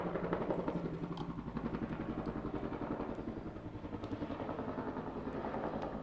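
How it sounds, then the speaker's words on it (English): A helicopter flies overhead outdoors, a steady loud rotor thump and engine drone with rhythmic chopping that holds constant throughout, with no talking. "I got a lot of helicopter noise"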